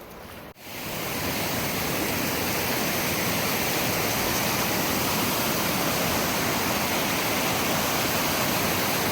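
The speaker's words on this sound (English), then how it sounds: "Also, there are rivers." An Icelandic river rushes steadily after a brief dip at the start, a dense, loud, unbroken hiss and roar of flowing water with no voices.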